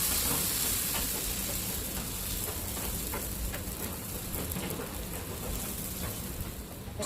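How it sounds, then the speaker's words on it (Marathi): Crispy moong dal dosa batter poured onto a hot oiled griddle, a soft steady sizzle and crackle with faint scraping, fairly quiet and without voices. "आता आपण डोसा टाकून घेऊया."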